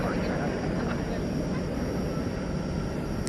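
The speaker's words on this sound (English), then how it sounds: "Here goes American 446 to San Francisco." An American Airlines Airbus A321neo passes at night at Dallas/Fort Worth Airport, giving a steady, fairly faint jet roar throughout, with someone talking over it.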